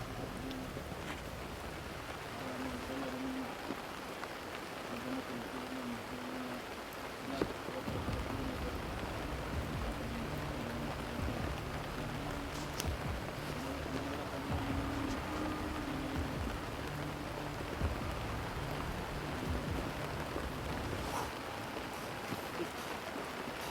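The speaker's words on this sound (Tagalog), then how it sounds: "Pero lakas ka ng ulan." Heavy rain pours in a dense, continuous hiss, steady and fairly soft throughout, with a faint low hum underneath and occasional murmured speech.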